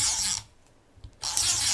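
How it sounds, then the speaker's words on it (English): A tape runner pulls adhesive tape along the glue flap of a paper file folder, making two close, steady raspy rubbing strokes separated by a brief quiet pause. "then I'll place tape on the glue flap"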